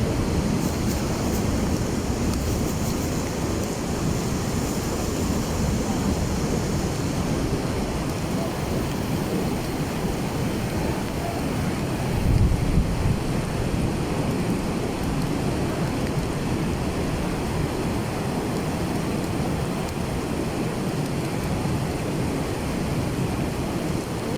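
Dense, steady rainfall hissing continuously at a mosque courtyard, with a dull low thump midway and no clear voices.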